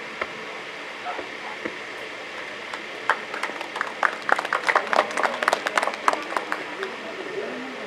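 Scattered clapping from a university convocation audience, a few claps at first then building into denser, uneven applause, moderately near within a large hall.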